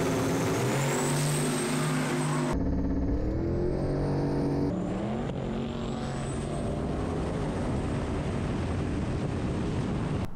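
Turbocharged LS V8 in a Camaro roaring loud and close, with several abrupt shifts in pitch as it revs and changes gear, plus a high turbo whine running over the top throughout.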